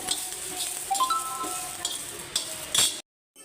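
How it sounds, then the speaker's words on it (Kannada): Tamarind and a teaspoon of cumin seeds fry in a pan for a ridge gourd chutney, giving a soft steady sizzle with light stirring scrapes and a brief clink near the end before it cuts to silence. "ಒಂದು ಟೀ ಸ್ಪೂನಷ್ಟು ಜೀರಿಗೆ ಹಾಕ್ಕೊಳ್ತಾ ಇದ್ದೀನಿ ಎಲ್ಲ ಹಾಕ್ಕೊಂಡು ನೀಟಾಗಿ ಫ್ರೈ ಮಾಡ್ಕೊಳ್ಬೇಕು"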